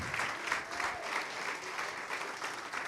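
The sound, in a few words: church congregation applauding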